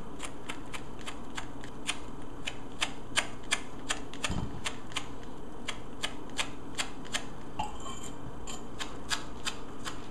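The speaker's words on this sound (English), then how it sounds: "Just scrape away with a knife" Knife blade scrapes zest from a lemon peel in quick, regular strokes, a crisp, close rasping repeated about twice a second over a quiet background.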